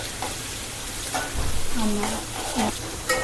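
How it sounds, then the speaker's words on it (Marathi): Onion sautés in a pan until browned while cooking chicken, giving a continuous close sizzle with stirring scrapes and a few low thumps. "कांदा लाल होईपर्यंत आता आपला त्याला परतून घ्यायचा आहे"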